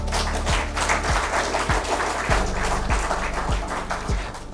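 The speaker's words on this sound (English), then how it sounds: "so a big applause for him." Conference audience applauding for a speaker at a health care financing event in Bonaire, with steady clapping of moderate loudness and low thumping taps recurring about every half second underneath.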